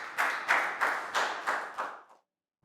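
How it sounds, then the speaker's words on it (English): A small group of students in a classroom claps in unison, about six rhythmic claps evenly spaced, close and moderately loud, then stops abruptly into silence. "Big round of applause for Chu"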